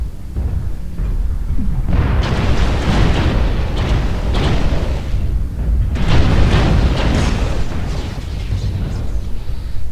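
Mech destruction explosions in the MechWarrior Online video game: loud, sustained booming and rumbling blasts in two heavy waves, dense and continuous throughout.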